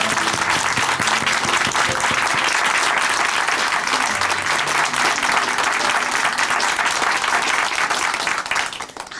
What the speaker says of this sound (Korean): 다시 함께 박수로 우리 찬양을 올려드릴까요?